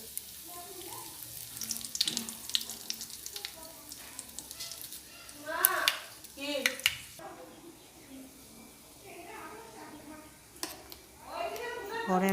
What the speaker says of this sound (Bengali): আমি এখন ফোড়ন দিয়ে দেবো।